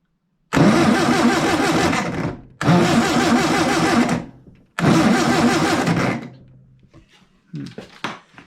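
An old air-cooled Volkswagen engine found in a warehouse cranks on the starter without catching, three loud grinding bursts of a few seconds each with pauses between, followed by faint clicks and handling noises.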